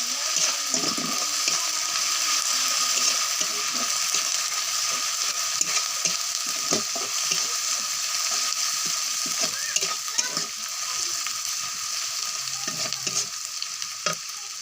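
Ginger and garlic fry in a pan for a prawn dish, giving a steady loud sizzle with repeated scraping stir strokes throughout, no talking.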